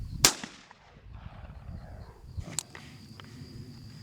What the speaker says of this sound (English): this is going to be a 12-gauge shotgun